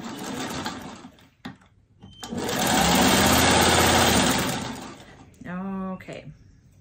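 A sewing machine stitching scraps into a diamond crumb quilt block, running in a steady whirring burst of a few seconds, loud and close, with someone talking before and after.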